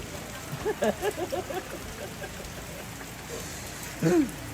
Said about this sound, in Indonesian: Hujan terus dari sore tadi sampai malam ini hujan deras di sana ini guys.